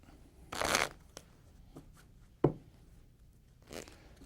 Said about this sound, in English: let's take a deck of cards, shuffle them up a little bit.